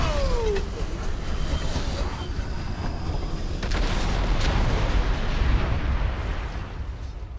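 Iron Reaver's Barrage artillery attack in a video game, a rolling stream of heavy booms and blasts, loud and continuous with sharp impacts layered over a low rumble.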